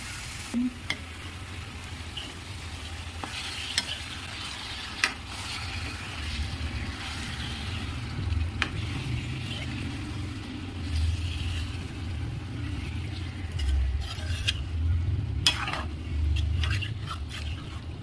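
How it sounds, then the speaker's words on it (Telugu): Chicken going into a pan of frying ginger-garlic paste for a chicken fry, sizzling steadily with scraping stir strokes and occasional clinks, close and continuous with no talk. "ఇప్పుడు శుభ్రంగా వాష్ చేసుకున్న చికెన్ని వేసుకోవాలి."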